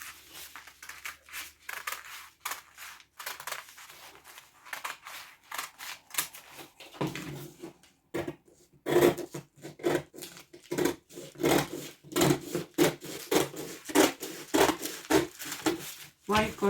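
Scissors cutting a 360-degree flare, with repeated crisp snipping and rubbing strokes in irregular bursts that grow busier and louder in the second half, close up, with occasional talk.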